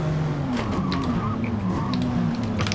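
A Jaguar XJR-15 in Forza Motorsport whines at high revs as its rear end slides out through a corner, the engine drone continuous and loud with faint tyre squeal riding on top.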